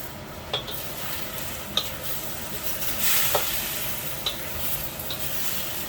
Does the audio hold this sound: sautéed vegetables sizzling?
yes